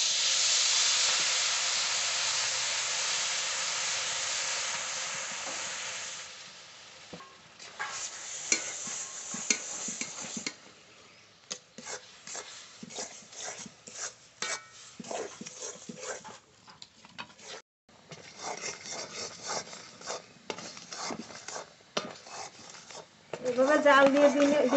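Cane jaggery heated in a dry wok: a steady steamy hiss at first, then repeated scraping strokes of a spatula stirring the thickening syrup, close and moderately loud, with a louder sizzle at the very end.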